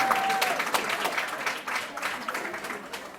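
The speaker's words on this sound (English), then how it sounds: "join me in a round of applause for everyone" Audience applause for spelling bee teams at a middle school citywide competition, a dense, steady wash of many hands clapping throughout, with a brief tone near the start.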